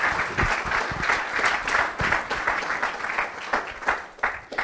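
A church congregation gives strong applause during a service. Dense, rhythmic clapping from many hands carries on without a break and swells and dips slightly.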